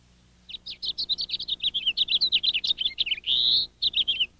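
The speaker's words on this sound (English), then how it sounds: "A flock of house finches can empty the seed from a feeder in a few hours." House finches at a backyard winter feeder give a rapid run of bright, closely spaced chirps and one longer buzzy note, near and clear over a faint low hum.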